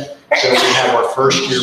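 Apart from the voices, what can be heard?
sneeze in a meeting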